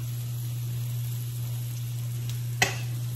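Sofrito sizzles and fries in a pan while being stirred, a soft continuous crackle over a steady low hum, with one sharp utensil clack near the end.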